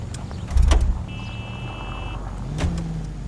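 A car in the L.A. Noire video game drives past with a low engine rumble, a thump of impact or gear change early on and a brief high whine, fairly loud and close.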